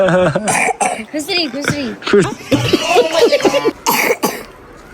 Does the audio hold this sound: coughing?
yes